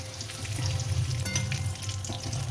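Bitter gourd pieces dusted with a little turmeric fry lightly in hot oil, giving a steady, close sizzle with soft crackles that holds at an even level throughout.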